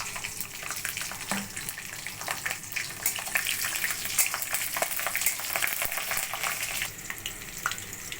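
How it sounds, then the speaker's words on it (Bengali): Green chillies and mustard seeds frying in hot mustard oil in a kadai, a loud continuous sizzle and crackle with occasional stirring scrapes, close up and without talk. "কড়াইতে তেল বসിয়ে তেল গরম করে কাঁচা লঙ্কা এবং সর্ষেটাকে ছেড়ে দিই।"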